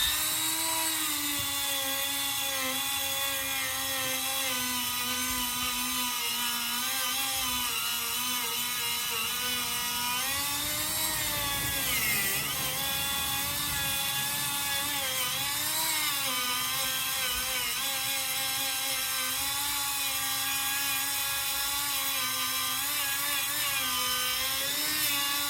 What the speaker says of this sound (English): it's just a rotary tool with the Scotch-Brite pad on it